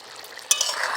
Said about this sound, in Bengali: একটু হালকা হাতে নাড়তে হবে, নইলে আবার কপিগুলো ভেঙে যাবে।